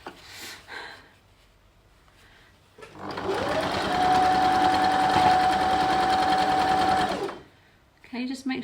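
A sewing machine stitches a quilt block, running steadily for about four seconds with a high motor whine, close and loud. Talk comes before and after the run.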